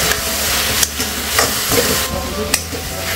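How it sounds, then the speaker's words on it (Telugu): Green chillies and crushed garlic cloves go into a pan of frying tomatoes, a continuous close sizzle broken by a few sharp utensil clinks and stirring scrapes, with no talking. "మనం కట్ చేసి పెట్టుకున్న పచ్చిమిర్చి వేసుకుందాం. అలాగే వెల్లుల్లి రెబ్బలు కూడా కొంచెం దంచి వేసుకుందాం"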